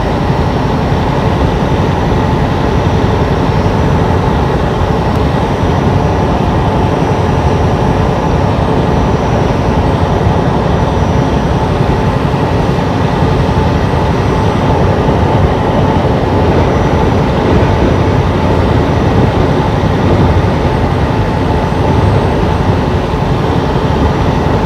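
A double-stacked intermodal freight train rolls past nearby, a steady, loud, continuous rumble of wheels and cars that holds without a break, heard from a truck on the road between Dodge City, Kansas and Boonville, Missouri.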